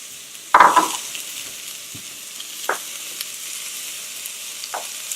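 Caramelized onions frying in a pan as red beet is added and stirred, a loud sizzling burst as the vegetables go in, then a softer steady sizzle with occasional scrapes of stirring.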